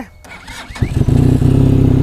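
A 2018 Benelli TRK 502 motorcycle engine cranks briefly, catches and starts, then settles into a loud, steady rumbling idle close by.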